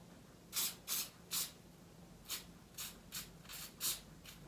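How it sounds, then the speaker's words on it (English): Spray glue sprayed onto butterfly wings to lock the scales, a series of about eight short hissing bursts, quiet and close, with brief gaps between them. "Okay, so now those are sprayed and it does dry clear."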